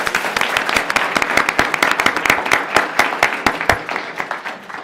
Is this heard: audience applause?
yes